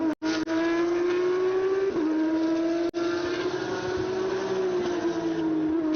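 A Porsche Carrera Cup race car at Mandalika circuit holds a loud, steady engine drone through the middle sector of a lap, its pitch rising and dipping slightly with gear changes and throttle, with brief dropouts.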